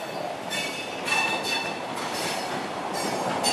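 Two CPTM series 2100 commuter trains crossing at Lapa station in São Paulo: a steady rumble of rolling cars and wheels on rail, with brighter squealing surges partway through, close by and continuous with no talk.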